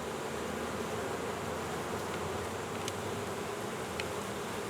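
A dense, continuous buzz of honey bees swarms around an open hive, drones and pollen-laden workers among them, steady and close with no voices.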